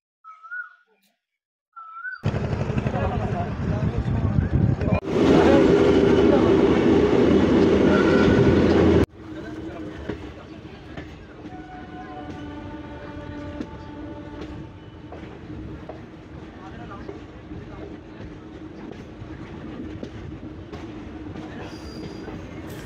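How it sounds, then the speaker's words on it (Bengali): A train departing Malda, the 13432 to Nabadwip Dham, rumbles and clatters nearby, swelling to a loud roar for a few seconds before settling into a steadier rolling noise of moving cars. "তোমরা দেখতে পাচ্ছ মালদা থেকে আমাদের ট্রেনটি রওনা দিল নবদ্বীপ ধাম"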